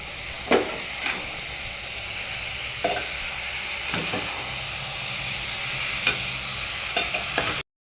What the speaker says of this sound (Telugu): బీరకాయ ముక్కలు అయితే వేసేసుకున్నాక ఒకసారి మిక్స్ చేసుకోండి.